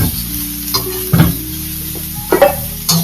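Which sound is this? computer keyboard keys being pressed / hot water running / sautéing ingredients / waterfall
sautéing ingredients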